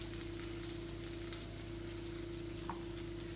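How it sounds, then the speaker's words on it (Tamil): Garlic fries in hot oil in a home kitchen while cooking a curry, giving a steady, even sizzle with an occasional light tick, close and moderately quiet, with no voices. "பூண்டு எண்ணெயில் வதக்கலாம்."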